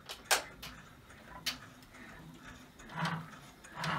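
An embroidery machine stitches a placement run on fabric over stabilizer, making soft rhythmic ticks and mechanical clatter with a few sharper clicks and a couple of louder whirring bursts near the end.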